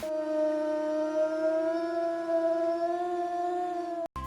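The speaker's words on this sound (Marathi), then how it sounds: "हा आहे लांडगा" A long, steady wolf howl holds one sustained tone for about four seconds, loud and unbroken, with a faint harmonic ring above it.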